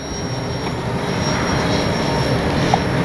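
A radio-controlled OV-10 Bronco model airplane drones steadily as it flies in to land on a grass field, its engine noise continuous and fairly loud with no talking over it.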